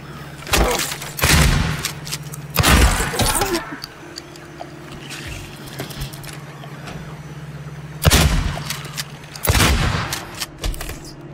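Gunfire in the Silent Hill 2 Remake, several loud close bursts of shots spaced across the stretch, with a low hum between them and voices briefly underneath.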